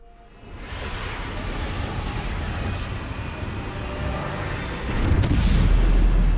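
The Bombarda blasting spell from Hogwarts Legacy goes off as a heavy explosion, a rumbling boom that swells and builds over several seconds and ends in a louder, deep low-end burst.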